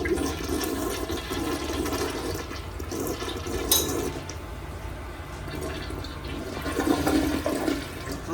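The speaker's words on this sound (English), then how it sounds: "Let's see the flush test." A hotel room toilet flushes loudly and close by, a continuous rushing of water that swirls and drains over several seconds and then turns into a refilling gurgle.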